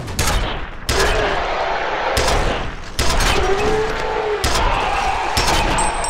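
Gunfire in the video game F.E.A.R. Extraction Point, loud bursts of automatic fire in several sharp clusters with short gaps, close and dense, heavy reports over a continuous rumble.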